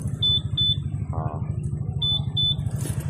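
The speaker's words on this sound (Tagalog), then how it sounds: "Isang beep. Meron na siyang answer back." Short high beeps come in pairs from a Yamaha NMAX, Aerox, XMAX or Sniper motorcycle alarm answering its remote, with a steady idling engine rumble running underneath.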